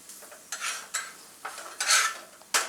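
A pea thalipeeth, a Maharashtrian flatbread, is pressed down and roasted on a pan, giving a soft sizzle broken by several sharp scraping presses of a spatula at irregular intervals.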